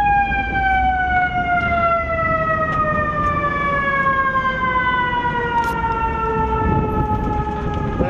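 Fire engine siren sound effect played aboard a moving bus, loud and continuous with a slowly falling wail over low road rumble.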